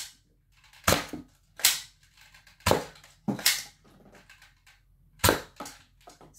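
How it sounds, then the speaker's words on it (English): Nerf blaster fired at a Nerf target indoors: five sharp, loud pops at irregular intervals, each with a brief rattling tail, separated by near silence. "now you start shooting onto a Nerf target that you have obviously put up yesterday night."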